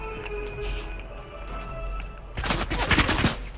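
A rattling burst of rapid gunfire in a video game, loud and close in the final second or so after a quieter stretch of background game sounds.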